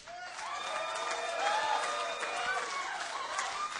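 A studio audience at a live show claps and cheers loudly, sustained whooping and shouting over continuous applause from start to finish.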